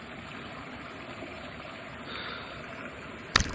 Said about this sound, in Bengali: পাহাড় থেকে আসছে জলটা। এই জলটা পুরো ওই পাহাড় থেকে এসে।